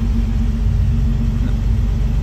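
Toyota FJ62 Land Cruiser engine idling at about 900 RPM during a revival, a steady close low rumble with an even hum and no change in pitch.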